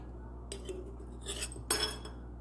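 Dried green mangoes are dropped into a jar, giving a few light clinks and rustles, brief close scrapes and taps over a low steady hum.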